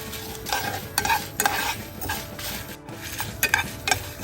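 Chillies dry-roasting in a pan and being stirred, with rhythmic scraping strokes in bursts over a low crackle, close and fairly loud, with a short pause partway through.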